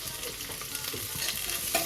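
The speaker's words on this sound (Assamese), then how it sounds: "এইখিনি আৰু ভালকৈ লৰাম মানে পিঁয়াজখিনি একদম ভালকৈ ভাজিব লাগিব" Constant sizzle of onions frying in oil with light stirring scrapes, close up and steady, no voices.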